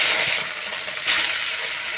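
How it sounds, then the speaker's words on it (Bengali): Pieces of rui fish frying in hot white oil in a wok, a bright steady sizzle with a brief surge of crackle partway through. "এবার মাছগুলো ভেজে নেব"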